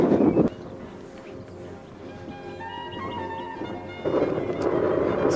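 Warm wind blows across the open Sourton Tors on an overcast day, a steady close rush with louder buffeting gusts at the start and again toward the end.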